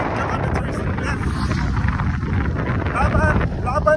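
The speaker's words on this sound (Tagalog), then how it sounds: "Grabe ang hangin, kusog kayo." Strong wind buffets the microphone as a loud, steady roar on the long, high Link Expressway bridge in the Philippines, continuous throughout with gusts swelling near the end and no talk heard.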